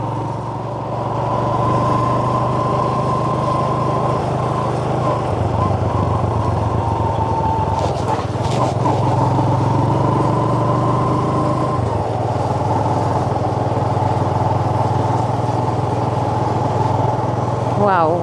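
A car cruises along Jamhuri Road in Mombasa with a steady low engine hum and road rumble throughout, while people talk over it.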